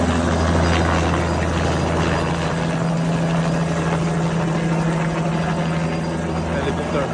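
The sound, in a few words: helicopter flying at a truck show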